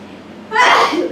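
One close, sudden sneeze erupts after a moment of quiet room noise, loud and breathy.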